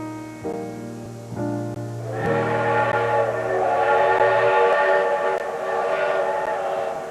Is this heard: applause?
no